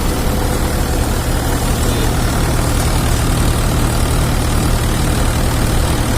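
A threshing machine run by a tractor at a farm, a loud steady mechanical drone with a deep engine hum and a constant rattling whir, close and unbroken with no talking.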